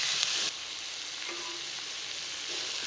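Leafy greens frying with panch phoron, salt and turmeric in a pan, giving a steady close hiss and sizzle with a few faint stirring scrapes throughout.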